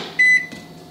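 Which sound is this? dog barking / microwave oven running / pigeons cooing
microwave oven running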